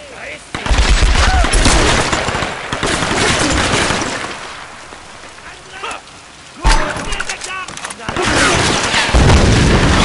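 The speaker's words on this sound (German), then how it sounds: "Ey, die schießen ja ohne Ende." Rapid, sustained gunfire and explosions fill a combat scene in the 2013 Tomb Raider video game, loud and dense with brief lulls, while a player's voice talks over the shooting.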